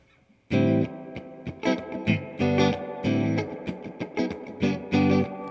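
Guitar played through a Boss SY-1 synth pedal and HP-2 fuzz by Land Devices with amp reverb on, bursts of thick buzzy synth chords in a choppy rhythm, loud and close, with reverb tails between hits.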